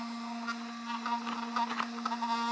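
A small fan in a brushless RC buggy hums steadily as it rubs against wires under the body, a constant, fairly faint drone with light scraping flutters and no talking.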